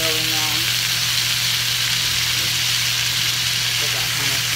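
Olive oil sizzles steadily in a frying pan, a continuous loud crackling hiss that holds evenly throughout with a low background hum.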